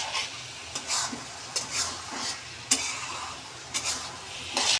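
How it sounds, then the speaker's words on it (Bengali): Chicken filling for momos fries in a pan, a low steady sizzle broken by repeated clinks and scrapes of a spatula at uneven intervals. "তারপর ভালো করে ভেজে নিব, মাংসটা"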